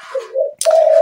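A spotted dove (tekukur), a ground-type bird prized for a loud, ringing voice, calls close and clear: two sustained hooting coos separated by a brief gap, the second stronger and steadier.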